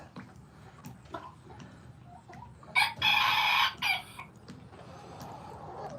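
A chicken clucks softly and then lets out a loud, drawn-out crow close by, with quieter clucks before and after.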